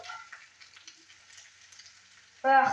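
Eggs sizzle softly in a frying pan for a cowboy breakfast, a faint steady crackle, then a spatula scrapes and flips them with a sudden louder clatter at the end.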